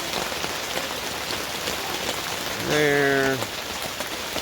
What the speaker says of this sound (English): So it's about 8 in the morning and it hasn't stopped raining.